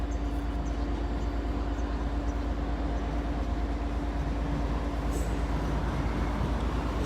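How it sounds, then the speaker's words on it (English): Train approaching the Lincoln High Street level crossing at night, a steady low rolling rumble that stays constant throughout, with a faint high tone and a brief clank near the end. "Train approaching."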